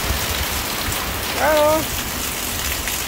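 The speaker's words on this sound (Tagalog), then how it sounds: "Woo, lakas na ulan." Heavy typhoon rain pours during a power blackout, a dense steady hiss throughout, with a brief spoken word in the middle.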